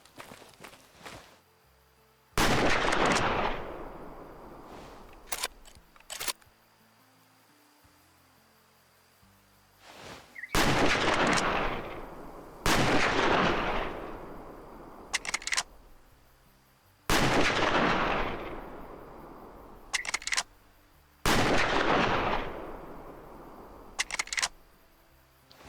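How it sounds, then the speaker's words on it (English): Hunting rifle shots in the hunting video game Way of the Hunter: five loud, sharp reports spaced several seconds apart, each trailing into a long echoing decay, with faint clicks and handling noises between shots. "Let's shoot and see how it sounds."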